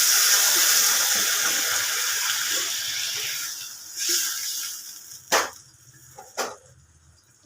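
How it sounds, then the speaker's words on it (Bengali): Water poured into a pan of mouri fish and potato curry, a steady splashing pour that fades, followed by a couple of sharp knocks near the end. "এবার জল ঢেলে দিলাম"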